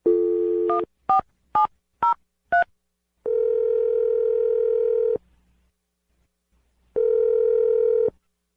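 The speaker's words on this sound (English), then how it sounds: "I'm going to dial the number." A telephone gives a short burst of dial tone, then five quick touch-tone beeps in an uneven rhythm, followed by two long, steady tones separated by a pause of silence.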